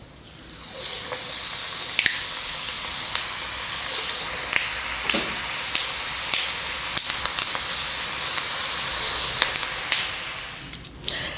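Steady crackling sizzle of chakli frying in hot oil, with scattered pops and spits throughout, close and moderately loud.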